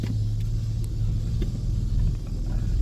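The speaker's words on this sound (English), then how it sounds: "it is the smoothest this truck has fired up since we've owned it" A 2004 Ford Ranger pickup engine running smoothly just after starting following a fuel pump replacement, a steady close low rumble with no talk.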